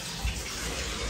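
Water running steadily from a tap after a pipe repair, a continuous moderate rush with no voices.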